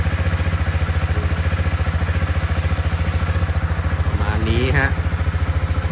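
A 2019 Honda CB300R motorcycle with about 24,000 km on it idles steadily after being started for a service, giving a close, even, throbbing drone. A brief higher revving flutter comes near the end.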